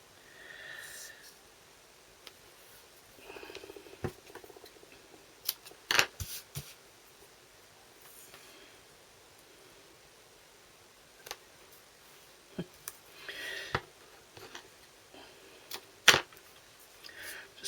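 Tape is pulled off and pressed onto small paper pieces in scattered short bursts of tearing and tapping, fairly close and quiet, with long gaps of near silence between actions.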